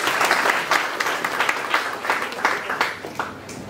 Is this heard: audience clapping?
yes